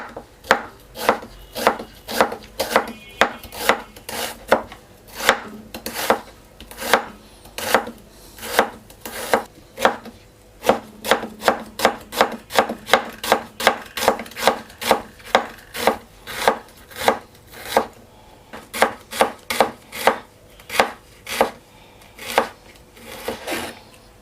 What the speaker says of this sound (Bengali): এখন আমি কয়েকটা পেঁয়াজ কেটে নিব।